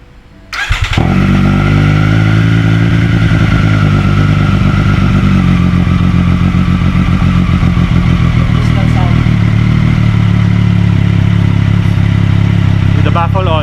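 A Triumph Street Triple RS motorcycle fitted with a Zard slip-on exhaust, baffle in, fires up and settles into a loud, steady idle with a few blips toward the end, close by.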